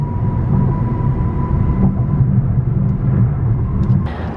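Steady low rumble of a car driving on the road, a continuous close engine and road drone inside the vehicle with a faint tonal hum, no talking.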